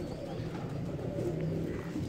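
A Sialkoti cross pigeon held in the hand coos in soft, low, continuous murmurs, close and steady throughout.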